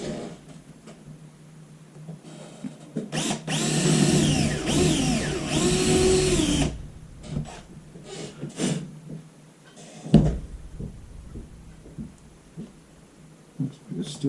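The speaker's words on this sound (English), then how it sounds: "then I'll drill my second one" A power drill bores a rivet hole in an air compressor, one loud whining burst of a few seconds, followed by scattered clicks and handling knocks in a quiet room.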